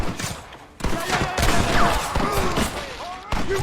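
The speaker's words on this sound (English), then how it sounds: "You man the Gatling gun, Marston!" A Gatling gun fires in the video game Red Dead Redemption as dense, rapid volleys of loud shots crowd together with battle noise, and voices come through amid the shooting.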